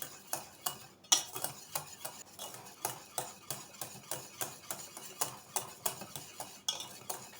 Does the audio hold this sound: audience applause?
no